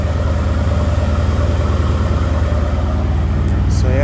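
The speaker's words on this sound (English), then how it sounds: "listen to that idle" A 2019 Mercedes-Benz GLC63S with its secondary catalytic converters deleted idles after a cold start, giving a loud, steady, deep engine rumble throughout with a faint voice near the end.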